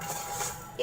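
Whole spices for a dhaba-style chicken liver masala are dry-roasted and stirred in a pan, a faint soft sizzle and scrape ending in a brief louder clink of the spoon.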